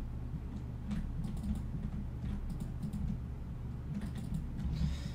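Computer keyboard typing during a Minecraft building session, a steady run of soft, close clicks and key taps over low background hum, with no talking.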